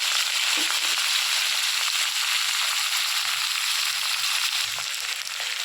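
Chopped tomato dropped into hot oil with black cumin seeds tempering in a pan, giving a loud, steady, close sizzle and frying hiss with light stirring crackles throughout; no voices.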